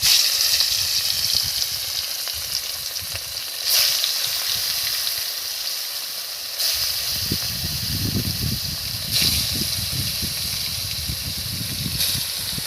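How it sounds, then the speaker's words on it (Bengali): Oil sizzles and hisses in a hot pan heated over a clay stove as catla fish is fried. A steady frying hiss is heard close up, with occasional crackles and no talking. "এখন আমি তেল দিয়ে দিচ্ছি।"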